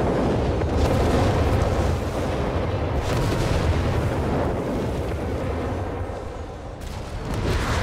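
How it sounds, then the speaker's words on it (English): Artillery barrages and howitzer fire roll on in a Company of Heroes 3 match, a dense, continuous wall of booming and rumbling blasts that barely lets up over several seconds. "More new weapon barrages again, more attempts here to silence Havoc's howitzer."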